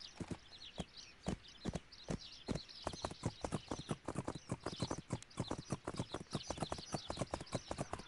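Horse hooves clip-clop in the riding video game My Little Riding Champion, a steady walking rhythm of crisp, evenly spaced hoof clops that quickens slightly partway through, with faint chirpy ambience behind.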